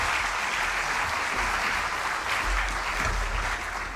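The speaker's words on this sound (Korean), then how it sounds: "박수로 맞이하겠습니다." Steady, dense applause from a forum audience welcoming a former Ewha Womans University president to the stage, a continuous even wash of clapping that stays loud throughout with no voices on top.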